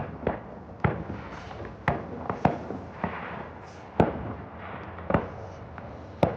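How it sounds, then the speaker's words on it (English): New Year fireworks go off outdoors just after midnight on a rainy January night: a series of sharp cracks and bangs, roughly one or two per second, some near and some distant, with rumbling echoes between them. "it's the new year, hence why the fireworks are going off"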